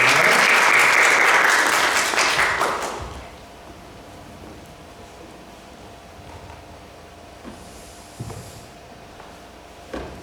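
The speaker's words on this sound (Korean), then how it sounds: "귀한 걸음을 해주신 우리 목사님께 감사의 박수를 우리 드리면서 우리 모시도록 하겠습니다" A church congregation at a Sunday service applauds in thanks, loud dense clapping that fades out after about three seconds into a quiet room with a few faint knocks and shuffles.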